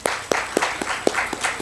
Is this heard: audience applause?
yes